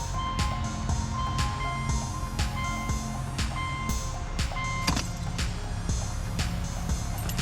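A loud electronic warning beep repeats in steady pulses over a constant low engine hum in a 2007 Subaru Outback, with no talking.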